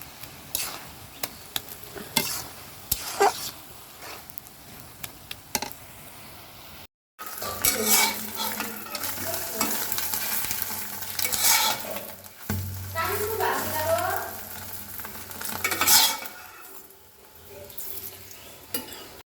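Greens (shak) being mashed and stirred in a hot pan, with close spatula scraping and clinks over a steady sizzle of frying, after a quieter stretch and a short gap.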